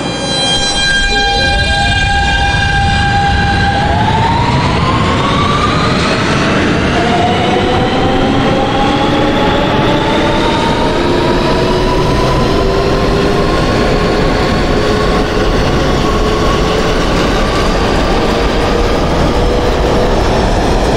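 An R160B Siemens subway train on the F Express line in the Openbve simulator accelerates with rising motor whine and rumbling wheels, loud and continuous, with tones climbing steadily in pitch.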